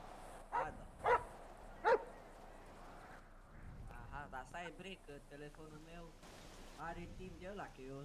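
Sharp dog barks from the FiveM game world, three close yaps early on, followed by agitated voices talking over a steady rain-like hiss.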